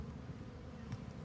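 Honey bees carrying pollen buzz steadily at close range, a continuous low insect hum from several bees landing nearby with no talk.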